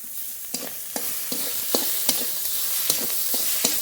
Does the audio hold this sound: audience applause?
no